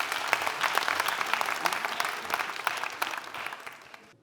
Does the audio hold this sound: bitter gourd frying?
no